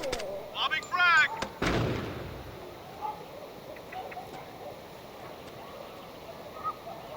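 A frag grenade goes off in the tactical shooter Door Kickers 2: one loud, close blast with a rumbling tail, preceded by a few short game sounds and followed by quiet ambient noise.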